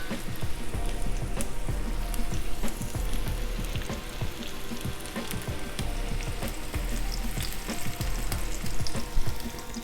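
Battered chicken pieces for General Tso chicken fry in a pan, a dense, loud, continuous crackle and spatter like heavy rain on a surface, steady for the whole stretch with no talking.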